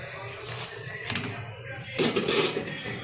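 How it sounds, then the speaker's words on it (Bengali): Washed dudhman taro leaves go into a pan of water on the stove, giving soft clattering and rustling handling sounds with a brief louder burst near the end, under quiet background noise. "জলের মধ্যে দিয়ে দিচ্ছি ধুয়ে রাখা দুধমান কচুর পাতা।"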